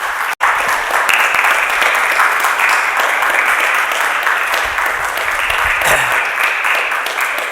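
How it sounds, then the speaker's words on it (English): An audience at a London lecture in 2015 applauds steadily for about seven seconds, a dense, sustained clatter of many hands clapping with no voices over it. "Let's give a round of applause,"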